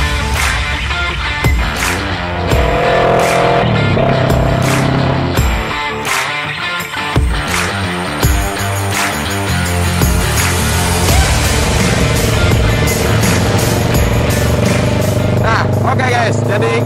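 A custom Kawasaki ER6n scrambler motorcycle with a stainless exhaust rumbles and revs up and down with varying throttle on a test ride, loud and close, with wind noise throughout.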